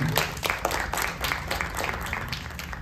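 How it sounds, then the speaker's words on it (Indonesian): Audience at an Indonesian public speaking and presentation skills seminar claps in a steady, dense round of applause that holds at an even level throughout, with a faint hum of voices beneath. "tepuk tangan sekali lagi untuk Bang Anton."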